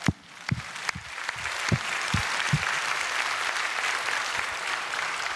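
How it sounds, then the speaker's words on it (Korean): A church congregation breaks into applause after a call to thank God, starting with a few scattered claps that quickly swell into steady, dense clapping from many hands filling the room. "하나님께 감사의 박수 합시다"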